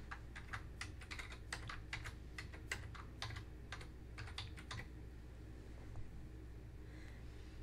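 Keys clatter on a computer keyboard in a quick, irregular burst of close, crisp taps, then stop, leaving only a quiet room hum.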